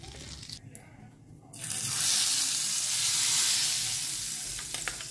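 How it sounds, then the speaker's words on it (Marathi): Dal tadka tempering with cumin and chili powder hits a hot pan, bursting into a loud, steady sizzle after a brief quieter moment and holding as a strong hiss, with no one talking. "आमकां तडका दिवंक जाय"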